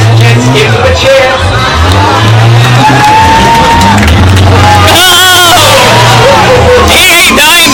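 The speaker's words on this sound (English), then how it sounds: "Give them a cheer." Crowd at the 2013 Isle of Man demolition derby whoops and cheers loudly over a constant hubbub of voices and engine noise, with a swell of shouting near the end.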